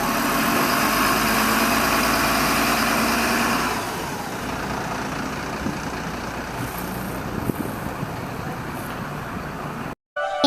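An animated cartoon vehicle engine idles with a steady, rumbling hum that drops to a quieter, rougher level partway through, then cuts out briefly near the end.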